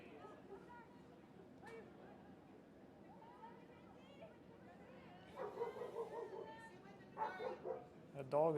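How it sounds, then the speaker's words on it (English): A dog barks and yips at a women's soccer sectional final, short bursts cutting through crowd chatter and a nearby voice, growing louder and more frequent toward the end. "That dog is voicing its approval."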